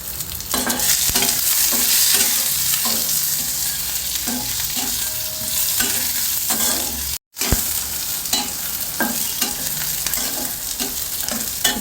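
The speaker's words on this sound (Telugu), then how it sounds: "మిరపకాయలు వేగినాయి కదా, ఆనియన్స్ వేస్తున్నా." Onions, ginger and chillies fry in a hot pan for a tomato cashew curry: a continuous close sizzle broken by regular scraping stirs, with one brief cut near the middle.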